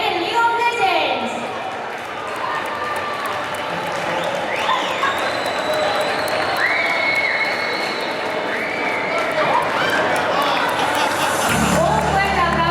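Spectators clap steadily at a cosplay runway at Salon Manga Valencia, November 2016, as cosplayer Ariel Kay appears as Nidalee from League of Legends. The applause runs at moderate level beneath an announcer's amplified voice.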